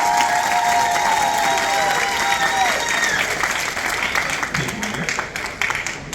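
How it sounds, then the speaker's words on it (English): A shipboard audience applauds contestants of a Family Feud–style game on a cruise ship, a dense sustained wash of clapping and cheering with a host's voice talking over the start. "so let's give them all a big round of applause"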